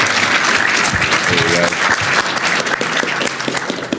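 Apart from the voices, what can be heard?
audience applause for Robin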